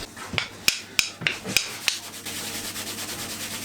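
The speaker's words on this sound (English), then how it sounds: "We'd used the random orbit sander and a 120 grit disc to get the faces nice and smooth." Walnut coasters are worked with a random orbit sander and a 120 grit disc: a run of sharp clicks and knocks gives way to a steady, close, scratchy rubbing.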